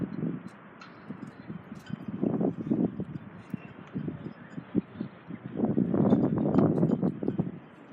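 Wind buffets the microphone at a harbour on a damp day, a steady low rumble that swells into stronger gusts toward the end, heard outdoors with no talking.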